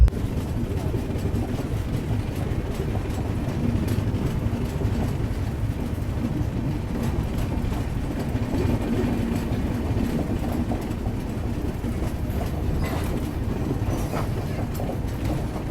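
Capital Express train running on rails, with a loud, steady rumble, rhythmic wheel clatter and a brief higher squeal near the end, heard from inside the train with no talking.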